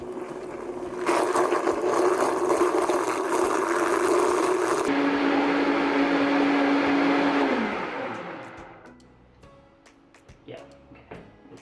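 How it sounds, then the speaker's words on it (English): A blender whirs loudly while mixing keto pizza dough ingredients, a steady grinding hum that shifts pitch midway, then spins down and stops, leaving quiet room sounds. "So now I'm just gonna put the dough ingredients in a blender."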